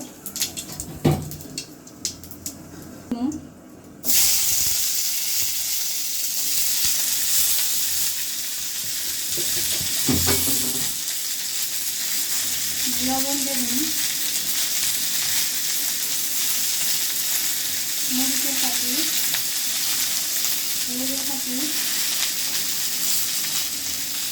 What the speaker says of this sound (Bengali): এই যে মা তেল দিতেছে জিরা সরিষা জিরা সরষা দিয়ে দিল